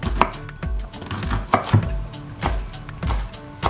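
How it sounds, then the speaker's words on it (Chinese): Scallions chopped with a knife on a cutting board, producing close, firm chops in an uneven rhythm, roughly a dozen sharp knocks with brief pauses, no voices over them. "给它切碎"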